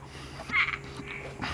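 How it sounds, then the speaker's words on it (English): Tree frogs calling outdoors after a night of heavy rain: a few short croaks rise briefly over a steady low background hum, fairly faint and intermittent, with no voices. "Tree frogs."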